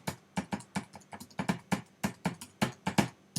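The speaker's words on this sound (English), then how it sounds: "type in your email" Keys tapped on a computer keyboard while entering an email address, a close, clear run of about a dozen separate clicks at an uneven but steady pace with no voice over them.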